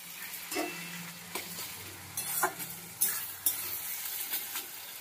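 Taro leaves stir-fried dry in a pan, a soft continuous sizzle with several sharp scrapes and clinks of a spatula against the metal, close and fairly quiet, no voices.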